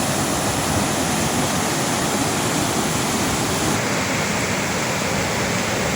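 River water flows steadily at a clear bathing spot, a loud, close, continuous rushing wash with no talk, holding even throughout.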